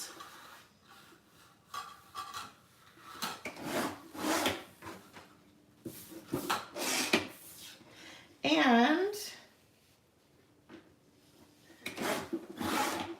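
Paper items being cut up for decorating a traveler's notebook, a string of scissor snips and crinkly paper rustles in uneven bursts, close and fairly quiet, with a brief sliding squeak partway through.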